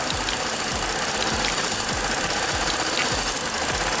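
A Ford Explorer engine idles roughly, with uneven rhythmic knocks and stumbles under a steady loud mechanical drone.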